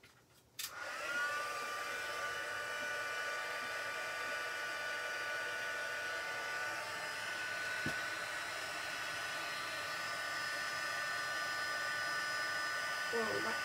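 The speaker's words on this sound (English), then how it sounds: "sorry about the noise again with the heat tool." A heat embossing tool switches on with a click and blows hot air in a loud, steady whoosh that runs unbroken for over twelve seconds, used while embossing on vellum.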